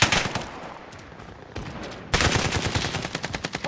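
Gunfire from Call of Duty: Modern Warfare, with dense automatic bursts that grow louder and sharper partway through, ending in a rhythmic series of distinct close shots.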